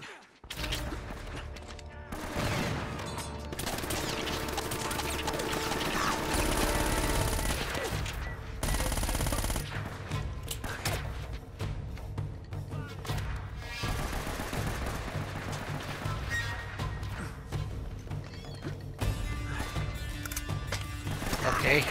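Shotgun blasts and AK rifle fire in Uncharted: Drake's Fortune, a dense, continuous barrage of in-game gunshots with overlapping bursts, loud and sustained throughout with a brief pause midway.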